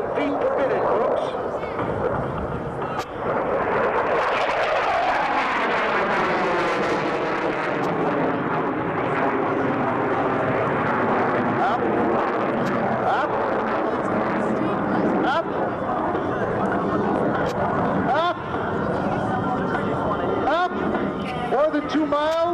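A CF-18 fighter jet on full afterburners at the 2002 Saskatoon air show makes a loud, sweeping roar that rises as it approaches and then shifts in pitch as it passes. A commentator talks over it throughout.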